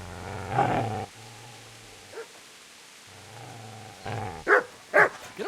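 A dog in Kingdom Come: Deliverance growls low and steadily, then breaks into a few sharp, close barks near the end, with quiet gaps between the outbursts.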